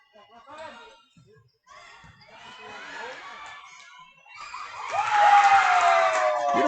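Crowd at a high school girls' volleyball game making noise in a gym, scattered shouts and cheers at first, then swelling into louder sustained cheering toward the end, with a whistle-like tone and voices mixed in.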